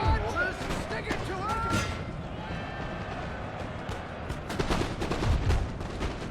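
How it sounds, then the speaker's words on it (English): Cannons and musket volleys crack and boom across a Napoleon: Total War battlefield, scattered gunfire with galloping horses and battle din, while someone talks over the action. "just keep firing into these with the cannons."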